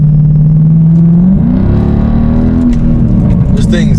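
A Mercedes W211 E63's M156 V8 engine accelerates in a deep, steady drone that climbs in pitch partway through, while someone talks over it.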